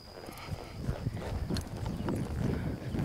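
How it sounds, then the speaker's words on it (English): Hooves of a loping horse circling nearby, a rolling rhythm of soft thuds in a steady three-beat cadence with faint background noise. "I'm going to lope a little circle right here"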